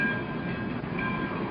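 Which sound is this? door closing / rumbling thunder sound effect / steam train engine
steam train engine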